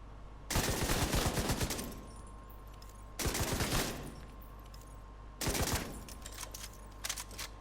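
A heavy gunner's machine gun in the shooter game Division 2 empties its magazine in three long, loud bursts of rapid automatic fire, separated by brief pauses with a steady hum underneath.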